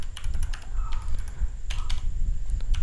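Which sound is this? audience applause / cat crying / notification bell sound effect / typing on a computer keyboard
typing on a computer keyboard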